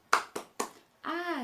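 A 'tepuk hebat' clap in a third-grade classroom: three sharp claps in quick succession, then a voice follows.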